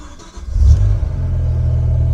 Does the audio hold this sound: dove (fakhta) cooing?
no